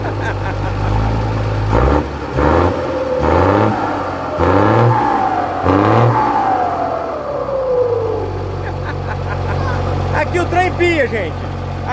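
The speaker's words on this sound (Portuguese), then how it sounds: "Dá uma acelerada nele lá, Marreco, pra ver se acaba com esse..." A heavy FNM D.1620 truck diesel engine revs hard in several repeated bursts, loud and close, with people talking over it and a rising whine near the end.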